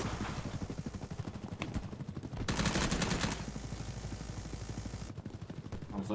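Close automatic gunfire in the shooter Battlebit Remastered, rapid bursts of cracking shots in a steady rhythm, with a louder heavy volley in the middle before the shooting continues.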